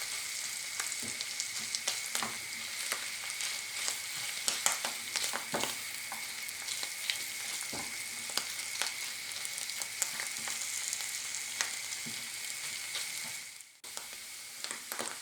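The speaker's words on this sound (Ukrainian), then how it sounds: "Наші стрічки відправляються за часником на пательню в вершкове масло. Злегка їх підсмажуємо." Homemade noodle strips fry in butter with garlic in a pan, giving a steady, close sizzle broken by frequent small clicks and scrapes of stirring; no one speaks.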